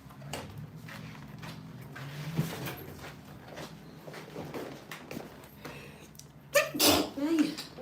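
A single loud sneeze near the end in a hair salon, following several seconds of quiet rustling and low movement noises.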